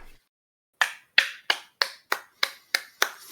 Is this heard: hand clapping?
yes